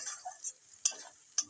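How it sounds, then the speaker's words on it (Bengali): Onions frying in oil in a pan, soft sizzling with a few sharp scrapes and stirs of a spoon, brief and fairly close, with no one talking. "দিয়ে পেঁয়াজটাকে একটু লাল করে ভেজে"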